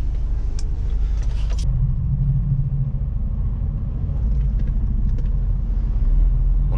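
Mercedes-Benz truck pulling away in a traffic jam in Düsseldorf, heard from the cab as a loud, steady low engine rumble that swells slightly toward the end, with faint clicks early on.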